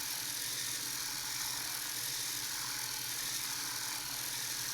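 A DSPIAE electric reciprocating sander buzzes steadily as it sands paint off a seam, a constant high-pitched rattling hum that holds even for several seconds with no voices.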